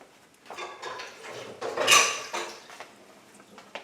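Pork shoulder butt being moved around a pan after deglazing with Sauvignon Blanc, giving scattered metallic clanks, scrapes and clatter with one louder clang midway, close and moderately loud.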